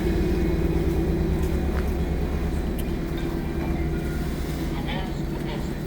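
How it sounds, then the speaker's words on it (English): An O-Train light rail train on Ottawa's Trillium Line rumbles steadily nearby at night with a low, continuous drone, faint squeals and clatter over it, as it begins to pull away. "we'll get a nice video here of this train departing momentarily"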